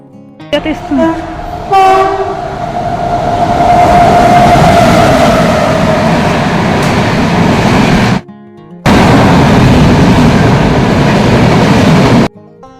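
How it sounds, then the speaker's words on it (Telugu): A passenger train rushes past close by in a loud, steady roar of wheels and rails, with a horn blast near the start and a brief dropout midway. "ఇలా ట్రైన్ ఫాస్ట్గా వెళ్ళిపోతుంటే చూడటానికి భలే ఉంటుంది కదండి"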